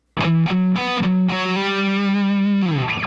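A heavily distorted electric guitar plays a short riff, a few choppy chords followed by a long sustained held note, loud and up close.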